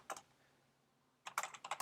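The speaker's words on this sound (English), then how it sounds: "I'm going to start typing" Someone types on a computer keyboard, a quick burst of clicks, a pause, then a faster cluster of close, crisp keystrokes.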